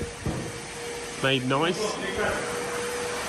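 Vacuum cleaner hoovering a Chieftain tank during an overhaul, while the turret is being prepped for paint. A steady, airy whooshing drone runs throughout, with a voice talking briefly over it midway.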